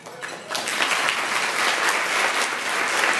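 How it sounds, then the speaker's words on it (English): Applause from an audience in a state legislature chamber after a nurse practitioner licensing bill is enacted, a dense, steady clapping that rises quickly and holds loud and close throughout. "They clapped like that"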